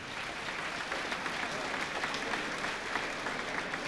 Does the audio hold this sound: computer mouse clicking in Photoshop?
no